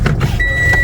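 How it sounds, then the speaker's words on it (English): A car coming down a rural road, a brief close swish of the passing vehicle with a faint engine hum underneath, heard alone. "Watch that car coming down there."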